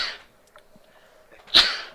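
Brief soft breathing in a quiet room, then one sharp, close sneeze bursts out near the end.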